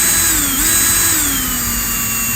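A power drill spins steadily while twisting silver wire held at its tip for a hoop earring, a continuous close whine with a slight dip in pitch partway through and no talking.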